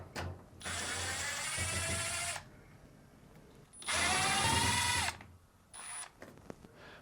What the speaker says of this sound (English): Now remove the two Phillips screws.